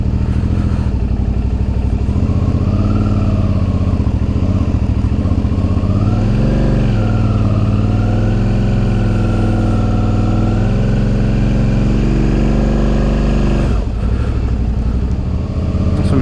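A Suzuki V-Strom DL650 motorcycle with a newly replaced clutch, ridden slowly. Its engine rumbles loud and close, with pitch rising and falling as the throttle is worked, and a brief clatter near the end.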